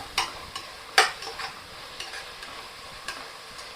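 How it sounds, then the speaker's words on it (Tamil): Onions sautéing with salt in a pan for biryani, with a few stirring scrapes and faint sizzling, quiet and close, without voices. "ஆட் பண்ணி நல்லா வதக்க ஆரம்பிச்சிருவோம்"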